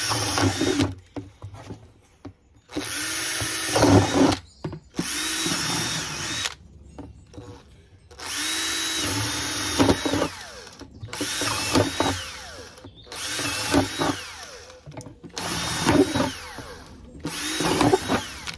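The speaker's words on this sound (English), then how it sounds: "So I'll just drill a hole." A power drill whirs in repeated bursts separated by short pauses, each burst rising and settling as it bites while drilling drainage holes, close and fairly loud.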